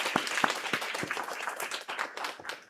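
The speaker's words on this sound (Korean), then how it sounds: "우리 주님께 영광의 박수 올려드립시다." A church congregation at an Easter Sunday worship service claps briefly, with a few distinct near hand claps at first blending into looser, scattered applause that fades toward the end.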